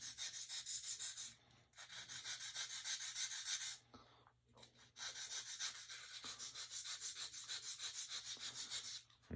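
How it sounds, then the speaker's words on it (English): A sanding block rubs back and forth over a balsa wood part for a Meister F4U Corsair model, giving steady close rasping strokes in long runs with brief pauses, no talking. "I can maybe take a Dremel or a sanding block and sand it"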